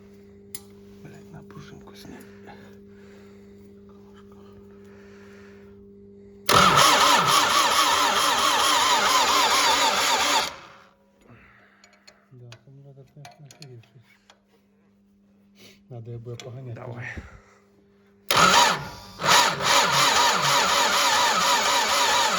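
An MTZ-80 tractor engine cranks and fires, roaring loudly for several seconds before cutting out, then catching again after a quieter stretch, close by, with a low electrical hum and people speaking quietly between attempts.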